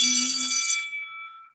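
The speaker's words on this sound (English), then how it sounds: "you can see me after the bell" A single bright school bell rings out and decays, its high metallic tones lingering and fading over about a second and a half.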